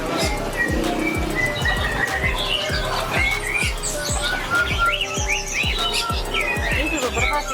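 Birds at a bird market in Malang, including pigeons, chirp and tweet busily over a rapid, steady clip-clop-like tapping, the calls dense and close, with bright squawks scattered throughout.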